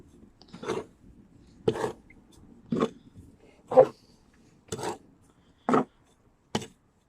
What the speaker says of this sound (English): what we want is some perlite, and we'll mix that in